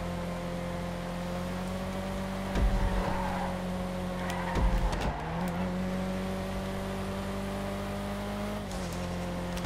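Elegy sports car engine during a test run in GTA 5, a steady droning hum from the engine with two brief louder surges as the revs shift, the tone dropping and climbing again near the end.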